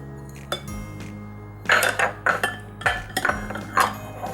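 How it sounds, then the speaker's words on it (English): Brown sugar, salt and flour being mixed in a bowl, with a utensil scraping and knocking against the bowl in a quick run of clinks and taps that grows louder partway through. "And we're going to mix that together."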